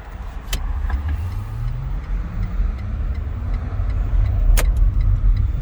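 A Baojun E100 small Chinese electric car pulls away and drives off, producing a rising whine of the motor over steady road and tyre noise heard from inside the cabin, with a couple of faint clicks and no talk.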